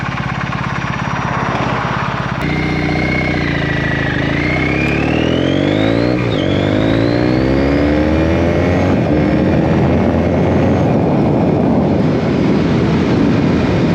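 A 360 cc parallel-twin motorcycle engine with a unique balance system, running loud and steady for the whole stretch, revving up and down with rising and falling whine and a continuous rumble.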